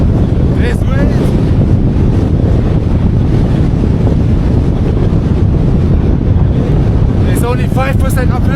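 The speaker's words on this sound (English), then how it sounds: "This wind." Strong wind buffets the microphone of a cyclist riding uphill along China's Xinjiang highway 314, a loud, constant roaring rush with faint voice fragments poking through.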